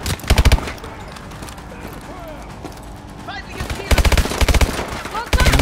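Automatic gunfire from the video game Call of Duty Advanced Warfare, loud bursts at the start and again near the end with a quieter stretch of game noise between.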